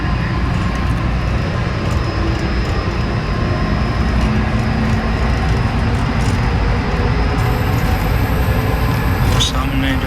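A Dubai airport metro train rides along, its steady rolling rumble and cabin hum filling the space throughout, with a brief higher chime or hiss near the end.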